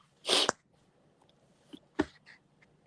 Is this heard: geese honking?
no